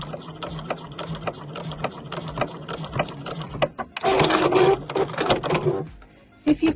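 A domestic sewing machine runs through scrappy fabric in rapid ticking bursts, pausing briefly before a louder, denser stretch of back stitching, then stops and gives a last short run, close and clear with no voices.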